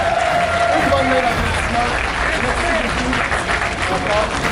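A crowd at a Rogue One event in Montréal breaks into steady applause, dense continuous clapping that fills the space loudly throughout, with some voices mixed in.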